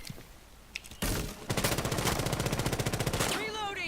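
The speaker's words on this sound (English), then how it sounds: "Shooting through there, trying to get a lucky shot." Rapid automatic gunfire bursts out during a professional esports shooter match on PC, a tight run of repeated shots after a couple of single cracks, with a caster speaking faintly underneath.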